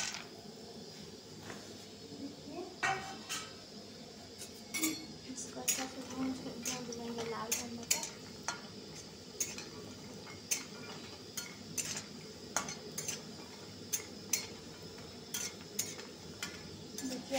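Dried lentil dumplings (badi) frying in hot oil as a utensil stirs them in the pan, a faint steady sizzle broken by regular close metallic clicks and taps, with no voices.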